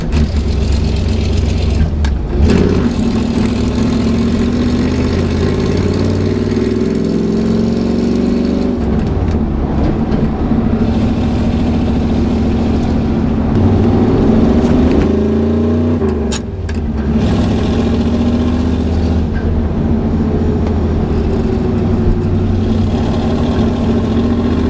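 A Chevrolet K30 truck drives along after a clutch adjustment, its mid-pitched engine droning steadily throughout with occasional revving swells and gear changes, loud and close, no talking.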